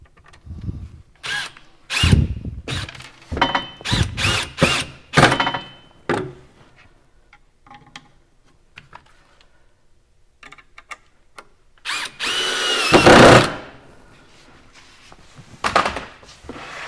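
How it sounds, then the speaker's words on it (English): A power drill drives two screws into a wooden table, with repeated short bursts of whirring and clicking, a pause, then a longer final run, close and loud. "we're going to put the remaining two screws in"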